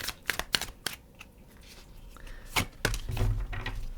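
Oracle cards are shuffled by hand, close and quiet, in a few quick riffling bursts, with soft card slaps and pauses between them.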